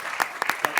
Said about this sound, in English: Matt deserves a round of applause for the amazing research he did